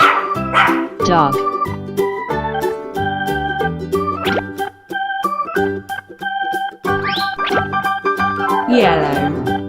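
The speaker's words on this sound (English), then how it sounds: "Dog." A children's car racing ramp toy plays a yappy dog barking and yipping sound over cheerful electronic toy music, with the barks coming in quick bursts close to the microphone.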